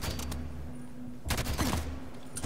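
Gunfire in Halo 5 during a Legendary co-op mission: a burst of loud shots, with quieter game noise before and after.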